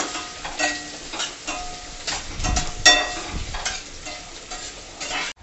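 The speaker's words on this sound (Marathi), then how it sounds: "कांदा परतून घेऊया।" Finely chopped onion is sautéed in a pan for soybean bhaji, a steady close sizzle with soft rhythmic scraping of a spatula stirring throughout, no talking.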